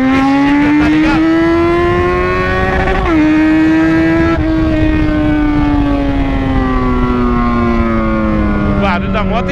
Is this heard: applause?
no